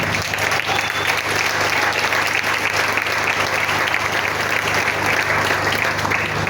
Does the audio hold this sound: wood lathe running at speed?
no